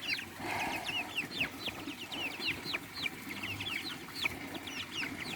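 Several chickens and young chicks cluck and chirp in quick, overlapping bursts, with small high peeping calls scattered throughout over a steady outdoor background.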